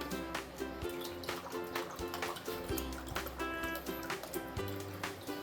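Filtered rainwater is poured into a measuring cup in an off-grid homestead kitchen, a quiet burbling trickle with small splashes over a steady, faint low hum.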